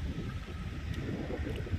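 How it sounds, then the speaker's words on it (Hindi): Wind blowing across a horizontal directional drilling site, a steady low rumbling gust noise buffeting the microphone throughout, with no speech. "अच्छा हवा चल रहा है यार, मस्त मौसम हो रहा है"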